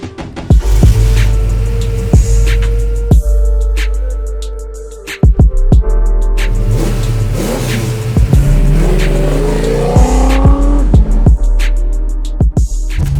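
A 550 hp 1968 Ford Mustang Fastback pulls away loudly, its deep V8 rumble swelling and falling, punctuated by sharp cracks and pops, with the engine rising again near the end.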